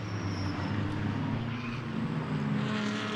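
A BMW GT race car in a Blancpain GT Series Asia race at Sepang drones steadily and loudly as it approaches, its engine note sustained and continuous throughout.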